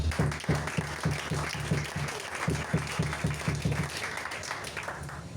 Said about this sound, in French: Est-ce que tu peux acclamer pour toi?